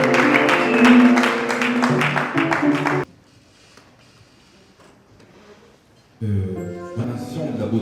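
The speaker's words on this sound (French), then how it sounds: "Mesdames et messieurs, sous vos acclamations, on acclame chaleureusement." An audience at a gospel arts event applauds and cheers for Maman Nicole Gabo, a loud burst of clapping and voices that cuts off, then returns briefly after a quiet pause.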